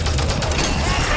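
Continuous rapid gunfire from a weapon in Halo 5: Guardians, a dense, loud, close burst lasting about a second with no pauses.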